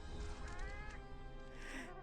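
A cat character in a Monster Hunter game lets out a couple of short, close meows amid busy game effects and noise, with no talk over it.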